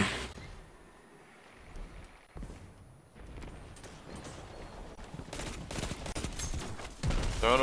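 Shotgun blasts and gunfire ring out in a Destiny 2 Iron Banner match, starting as quieter scattered shots and building into louder, denser bursts toward the end.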